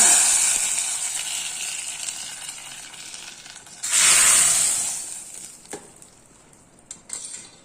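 Cinnamon, dried chili and curry leaves crackle in hot oil as a tempering for paruppu kulambu, a steady bright sizzle that swells loudly midway, then fades, with a few utensil clinks near the end and no talking.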